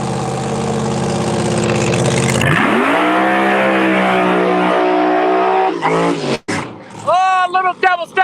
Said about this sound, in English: Little double step burnout right there to start the morning off right here at Empire Dragway